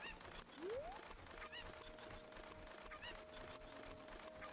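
A cucco chicken in Zelda: Ocarina of Time clucks repeatedly at low volume over game music, with a rising whistle-like tone early on.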